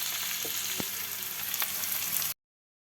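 Onions sizzle steadily in a frying pan with curry leaves, a continuous broadband crackle with a few brief spatula scrapes and clicks, close and fairly quiet, cutting off abruptly after about two seconds.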